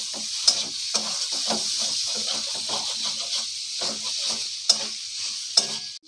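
Chicken and kabuli chickpeas sautéing in a pan for ghugni: a loud, continuous sizzle with rhythmic spatula scrapes repeating every half second or so, plus a couple of sharper knocks.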